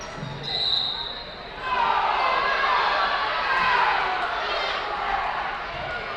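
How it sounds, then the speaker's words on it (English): Basketball crowd at a senior boys high school game between Waldron and Danville voicing displeasure over an out-of-bounds call, a broad murmuring roar that swells after a quiet start and holds steady, with a commentator talking over it. "Crowd not liking that out of bounds call."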